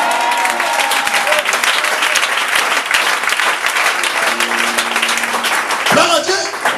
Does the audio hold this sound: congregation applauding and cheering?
yes